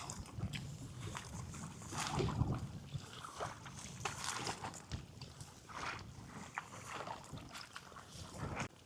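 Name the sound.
kayak paddling into the wind on choppy water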